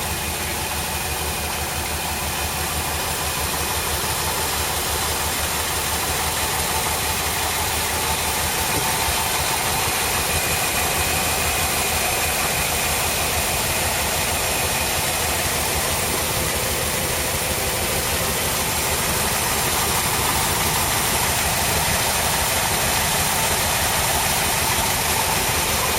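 An overhauled 1957 Ford Thunderbird engine idles steadily and continuously for the whole stretch, a low rumbling hum with a faint knocking vibration, no voices.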